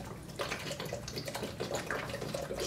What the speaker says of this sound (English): All right, so here goes the hot water into the moss bag.